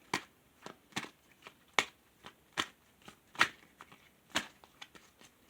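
Tarot cards being shuffled close up, soft crisp riffling flicks coming in uneven bursts, quiet with no talking.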